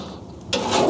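Coals and embers scraped across the metal base of a braai, a single rough rasping scrape that starts abruptly midway and continues loud and close until the end.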